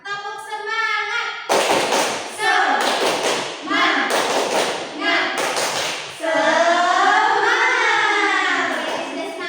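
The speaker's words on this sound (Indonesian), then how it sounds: "Oke, kita akan melakukan tepuk semangat." A class of children does a rhythmic spirit clap, loud bursts of clapping and thumping in patterned groups alternating with chanting voices.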